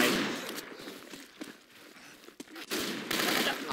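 Rapid gunfire in the zombie shooter Left 4 Dead 2 during a custom campaign, bursts of automatic shots and sharp cracks at the start and end with a quieter stretch between.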